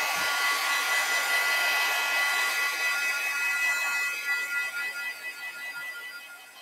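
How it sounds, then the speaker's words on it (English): An old, loud heat gun blows steadily over a watercolor painting, a constant close whirring hiss that eases slightly and flutters toward the end. "So this is a very old heat gun that I think Martha Stewart made a long, long time ago."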